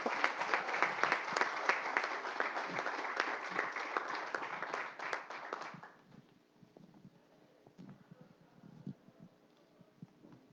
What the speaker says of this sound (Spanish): les pido un aplauso para el equipo guatemalteco